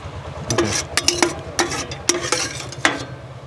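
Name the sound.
fried mushrooms being stirred and lifted from oil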